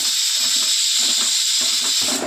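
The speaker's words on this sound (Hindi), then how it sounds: "कुकर की सिटी हो चुकी है" A pressure cooker whistle releases a steady, loud hiss of steam that rushes out continuously without pause, bright and close throughout.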